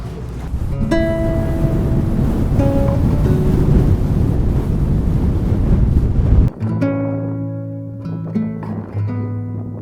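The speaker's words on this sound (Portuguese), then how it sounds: "O vento aqui tá congelante." Strong, freezing wind roars across a Bolivian salt-crusted lagoon, buffeting the microphone loudly and steadily, then drops abruptly near the end, leaving softer tonal sounds.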